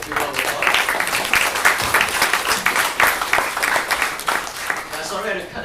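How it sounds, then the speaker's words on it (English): An audience at a Go Jek and DSSG talk event applauds, a continuous patter of many hands clapping, fairly close and full, with a speaking voice faintly over it. "Everyone, please secure round of applause."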